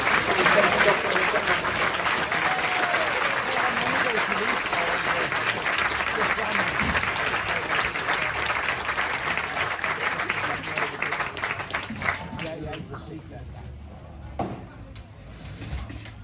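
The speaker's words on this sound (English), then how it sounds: "So massive round of applause for our crews." Sustained audience applause for fire brigade crews after a firefighting demonstration, steady clapping for about twelve seconds before thinning out and fading, with faint talk at the end.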